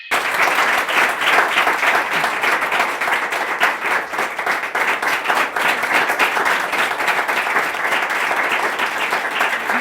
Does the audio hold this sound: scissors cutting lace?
no